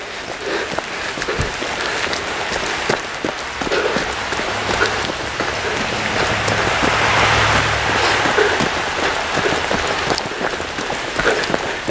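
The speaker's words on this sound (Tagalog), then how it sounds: "kunting ulan, malamig, no?" Light rain patters steadily in a forest, dense soft drops tapping on leaves and ground, fairly close and continuous with no talking.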